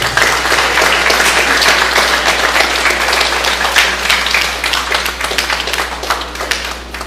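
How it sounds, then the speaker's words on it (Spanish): Loud, sustained audience applause fills the hall after a lecture by Dr. Marco Antonio Pérez Ramírez at a national labor procedure law congress, dense clapping continuing steadily for the full length without a break. "Fuertes los aplausos, por favor."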